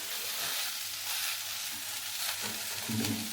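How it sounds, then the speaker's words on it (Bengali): Onions and vegetables frying in a pan while being stirred: a soft, steady hiss of sizzling with a few scraping stirs of the utensil toward the end, fairly quiet and with no talk. "পেঁয়াজটা ভাজা হয়ে গেছে, এবার সবজিগুলো দিয়ে দিচ্ছি"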